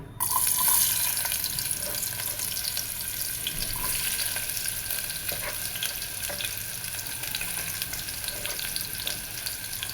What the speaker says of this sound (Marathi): आता आपलं तेल बऱ्यापैकी गरम झालं आहे. तर प्रथम आपण त्याच्यामध्ये जो आपण कांदा चिरलेला होता, अर्धा कांदा,